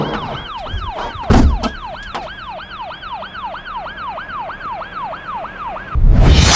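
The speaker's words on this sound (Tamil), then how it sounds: "இங்க வேற போலீஸ் வண்டி வருது." Police car siren wailing in a steady rapid up-and-down cycle, loud and close, between brief bursts of louder noise at the start and end.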